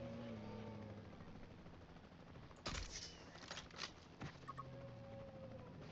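Tranquilizer gunfire in the dinosaur park game Jurassic World Evolution 3: a few sharp shots crack in a short cluster over a steady background hum of game ambience.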